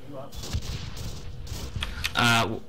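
Bursts of gunfire in a military video game crackle through a busy battle soundscape, with voices talking over the shots and a louder sustained blast near the end.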